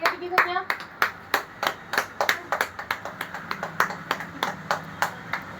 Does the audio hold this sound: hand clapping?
yes